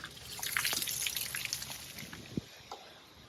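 Water drains out of a brush truck's tank, heard as scattered drips and small trickling splashes that come unevenly and are fairly faint, with a few sharper drops near the end.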